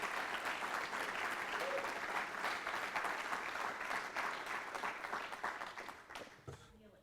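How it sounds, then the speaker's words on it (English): Sustained applause from a university audience at a strategic plan announcement, dense and steady clapping that fades out toward the end. "would you give yourselves a big round of applause"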